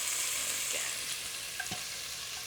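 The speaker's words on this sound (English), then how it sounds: "So I'm going to fry that off probably for about 5 or 6 minutes just to make sure that all of the rawness has been cooked through." Spice paste for pork vindaloo fries in a pan with a steady, close sizzle, broken by a few faint stirring scrapes.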